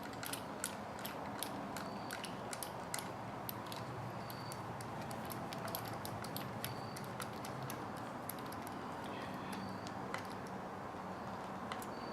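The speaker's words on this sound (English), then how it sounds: "Now, if I can get these 2 screws in, it'll be alright." Small screws being driven into a model truck chassis, producing a steady run of fine ticking, ratcheting clicks at close range, no talk.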